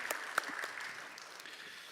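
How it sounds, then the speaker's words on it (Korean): A short burst of clapping from a church congregation during an Easter Sunday service, fairly faint and even, fading slightly toward the end. "박수로 올려드립니다."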